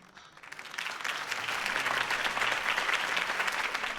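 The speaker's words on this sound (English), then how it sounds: "could have heard that applause" A crowd bursts into sustained applause after a campaign speech in Batman: The Telltale Series, the clapping swelling in the first half-second and then holding steady and dense throughout.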